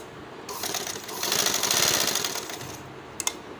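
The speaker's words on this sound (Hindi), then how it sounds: "अब ये जो मैंने निशान लगाया था, इसके ऊपर मैंने बिल्कुल सीधी सिलाई लगा लेनी है।" Sewing machine running a straight seam along a pen mark on fabric for a boy's kurta pajama, a close, steady rapid whir that swells in the middle and tapers off with a couple of clicks.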